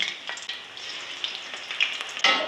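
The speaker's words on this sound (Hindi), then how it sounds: "अब इनको करते हैं फ्राई। और तेल गर्म है, 2 से 3 में फ्राई कर लूँगी।" Potato samosas frying in hot oil, a continuous soft crackling sizzle with small pops and a brighter burst of bubbling near the end, close and fairly quiet with no voices.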